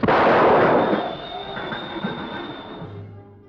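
A single loud gunshot in an old film scene, a sudden blast that rolls into a long fading echo and rumble over about three seconds.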